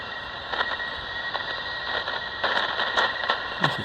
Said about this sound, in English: There's some static crashes in the background there.